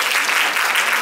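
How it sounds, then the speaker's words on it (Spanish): Dense applause from a church congregation during a Sunday service, a steady wash of clapping filling the short moment with no voices standing out. "¡Aplausos bastante!"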